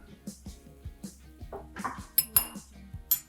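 A utensil stirs microwaved nacho dip in a bowl, giving a run of soft scraping strokes and light clinks against the dish, growing louder and sharper toward the end.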